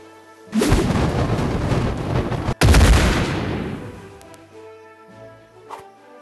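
Video game gunshot headshot in Bowmasters: a loud booming blast that rings out, then a sharp second crack a moment later with a long rumbling decay fading away.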